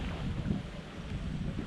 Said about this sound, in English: We have a strong gust of wind every now and then.